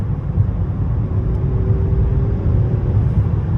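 A V8 car engine drones with a deep, steady rumble from inside the vehicle, a continuous low roar with no voices.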